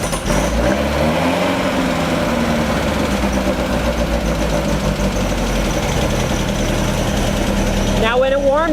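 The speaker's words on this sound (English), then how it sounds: "how long it takes to get back down to idle" A Beck 550 Spyder replica engine runs at raised revs and slowly drops back toward idle, a steady close rumble with someone talking over it.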